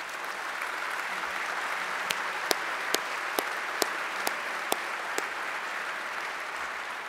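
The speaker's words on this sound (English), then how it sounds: "let's give all of our electeds just a round of applause" Sustained applause from an audience honoring elected officials at a Sacramento civic event, a steady wash of clapping with a few sharper individual claps standing out.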